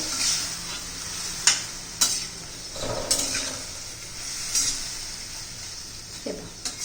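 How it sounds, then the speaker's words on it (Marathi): Cauliflower and spring onion stir-fried in a pan for a Maharashtrian-style cauliflower bhaji, with a faint sizzle under repeated sharp scrapes and clinks of a spatula stirring against the pan, heard close and without talk. "आता त्यात फ्लावर घालून घ्यायचा आहे कांद्याचे पात घातले ना छान लागतं"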